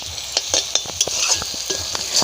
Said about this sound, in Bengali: দেখুন বন্ধুরা, আমাদের সব কিছু খুব ভালো করে ভাজা হয়ে গেছে।